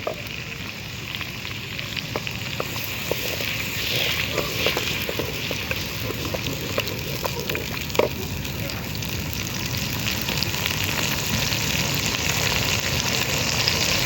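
Tomato puree sizzling in a hot pan while cooking dal gosht: a steady, loud, crackling fry that holds constant throughout, with a few sharper pops and spatters along the way.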